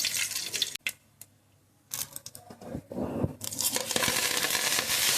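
Mustard seeds hit hot oil in a pan while cooking a drumstick-leaf stir-fry, giving bursts of crackling and sizzling with a brief quiet gap, then building into dense popping.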